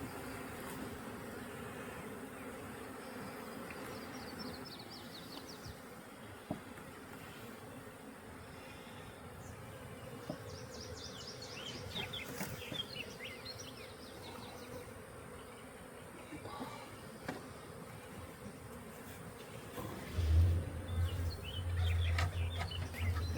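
Honey bees drone steadily around newly installed hives on a wildflower-planted property, a continuous outdoor buzz with faint bird calls and occasional louder passes near the end.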